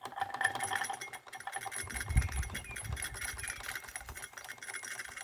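A Wilesco D409 model showman's steam engine runs steadily, a fast mechanical chuffing and whirring with rattling clatter, close to the microphone and fairly faint, with no talking over it.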